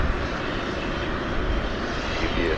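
An airliner takes off at DFW Airport, its engines a steady broadband roar that stays loud and even throughout with no talk.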